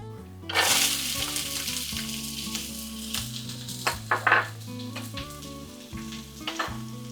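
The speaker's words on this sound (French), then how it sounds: "Je fais revenir mes oignons et mon ail." Onions and garlic fry in olive oil in a large cooking pot, a steady close sizzle with a loud burst as they hit the oil, under low background music.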